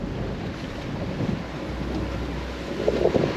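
Wind blows across a Cobia 350 center console boat as a steady rushing roar with low microphone buffeting, and faint water sloshes toward the end.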